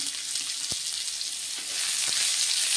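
Chopped onion frying in oil for spinach poriyal gives off a steady, close sizzle. A couple of sharp clicks break through it, likely from a spoon against the pan.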